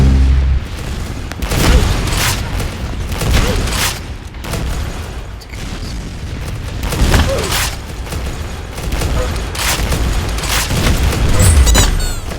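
A firework show in the Roblox shooter Arsenal fills the air with loud, repeated booms and crackling bursts that keep coming in uneven waves, some deep and thumping, others sharp and fizzing.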